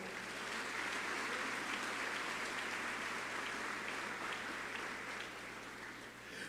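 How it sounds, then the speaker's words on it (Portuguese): A church congregation claps together in a sustained, even burst of applause, moderately distant and filling the room, with a faint low hum beneath. "E dê um aplauso a ele"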